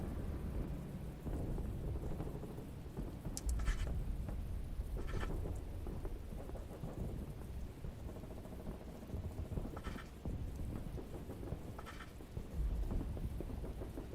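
Rain and rolling thunder in the WWI trench warfare game The Great War: Western Front, steady heavy rainfall throughout with several deep thunder rumbles and cracks recurring every few seconds.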